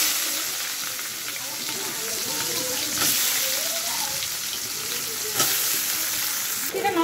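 Onions fry in hot oil tempered with cumin, giving a loud, dense, continuous sizzle close by, with occasional swells of stirring.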